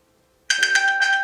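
An iPhone pinged from a paired Apple Watch to locate it lets out a sudden bright, chiming alert tone after a moment of near silence, repeating in quick pulses, loud and close with no talking.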